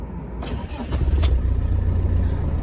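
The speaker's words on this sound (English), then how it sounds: "Just a lovely, smooth sounding engine." A Land Rover engine cranks and fires, then settles into a steady, smooth, low idle rumble at close range, with no talk over it.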